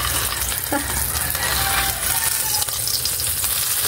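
An egg frying in a pan for a mung bean dish, a loud close sizzle that runs without a break while the egg is turned, with faint scraping and clinks from the utensil and no voices.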